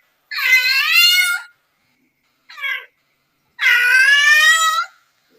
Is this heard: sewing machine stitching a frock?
no